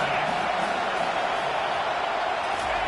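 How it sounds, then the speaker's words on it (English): Steady, dense roar of a stadium crowd during a football video game, swelling on third down as fans get behind the defense; a continuous wash of noise with no clear breaks. "Decibels rising as the crowd gets behind this defense on 3rd down."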